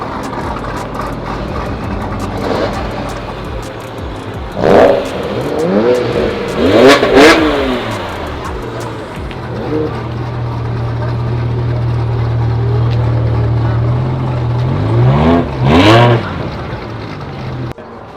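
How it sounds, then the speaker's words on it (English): Cars leaving a motor club meet on Mother's Day rev their engines in several loud bursts, with one engine idling and droning steadily between passes and a final roar as another car pulls away. "Cars are going."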